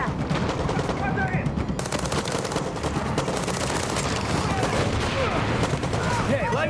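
Enemy gunfire in the video game Far Cry 6, a dense, continuous burst of rapid automatic shots cracking loudly throughout with no letup, with a voice talking briefly over the barrage.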